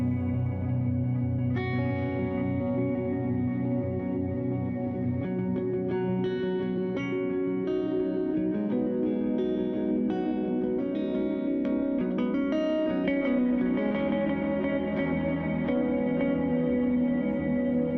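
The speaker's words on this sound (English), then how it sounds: "Then I've got this little arpeggio guy, or arpeggiator." A guitar runs through an arpeggiator pedal, sounding as a continuous stream of rapid, evenly stepped notes with a processed, echoing tone that carries on for the whole stretch, with no talking.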